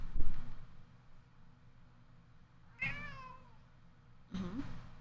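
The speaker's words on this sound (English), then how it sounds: "Lucky, would you like to meow at them?" A cat meows twice, clearly and briefly, a couple of seconds apart over a quiet room background.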